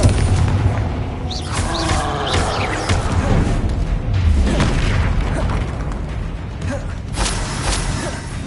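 A Confringo blasting spell detonates in Hogwarts Legacy amid a dense, continuous barrage of booms and crackling game combat effects, loud and sustained throughout with layered bursts.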